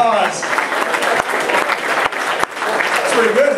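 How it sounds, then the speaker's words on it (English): An audience applauds after a skit, with steady, dense clapping throughout and voices talking over it. "let's give them all a round of applause."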